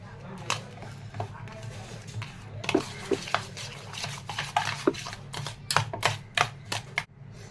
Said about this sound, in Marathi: हे घातल्यानंतर छान असं चमच्याच्या साह्याने मिक्स करून घ्यायचं आहे